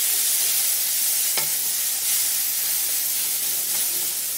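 Long green beans stir-fried with onion and garlic in a pan give off a loud, continuous hissing sizzle, with one brief scrape of the spatula partway through.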